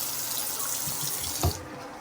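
A bathroom tap runs with strong pressure, a steady close hiss of water with a brief splash near the end.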